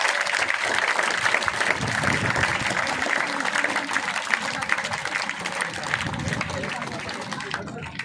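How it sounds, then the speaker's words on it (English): An audience at a school mathematics day quiz competition breaks into dense, sustained applause that fills the room at steady loudness, with crowd chatter mixed underneath. "Clap once more."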